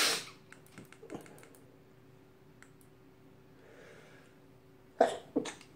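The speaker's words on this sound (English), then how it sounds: "A fat guy sneezing on camera." A man sneezes on camera: one sharp burst opens, softer breathy sounds and small noises follow, then a louder explosive sneeze comes near the end with a quick second burst after it.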